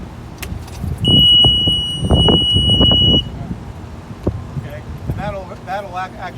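A generator's battery charger failure alarm sounds a steady high-pitched electronic tone for about two seconds, standing out over background talk and clatter.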